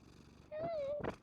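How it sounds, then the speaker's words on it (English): A cat gives one clear, close meow with a rising then falling tone, followed by a short breathy purr-like burst, brief and fairly quiet. "Okay, Jasmine, say meow."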